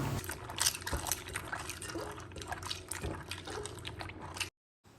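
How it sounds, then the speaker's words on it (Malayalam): Water splashes and pours steadily for several seconds as hibiscus flowers are washed, with light dripping and sloshing close by, then stops abruptly near the end. "നമ്മൾ ആദ്യം കുറച്ച് വെള്ളം ഒഴിച്ച് ഇതിനെ നല്ലവണ്ണം ഒന്ന് കഴുകിയെടുക്കുക"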